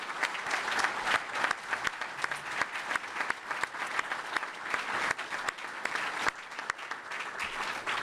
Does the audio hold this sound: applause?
yes